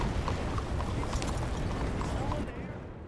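Horse hooves clip-clop steadily at walking pace in the video game Red Dead Redemption 2, close and continuous under game ambience and a voice talking.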